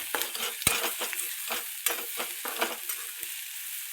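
Onion frying in a pan, a close sizzle punctuated by repeated scraping stirs of a spatula in a loose rhythm, moderately loud with no speech.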